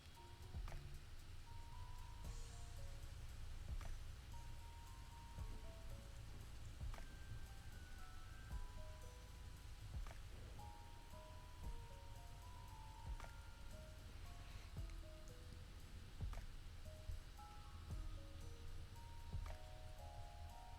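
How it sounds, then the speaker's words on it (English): Steady, soft rain hiss runs under gentle relaxing music. Quiet melodic notes chime over the constant patter from start to finish. "Now it's raining too."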